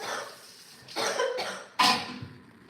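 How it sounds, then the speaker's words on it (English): A person coughing during a relaxed morning breakfast chat: a few separate close coughs, the last one sharpest and loudest, with quiet pauses between. "Yes, I'm still coughing"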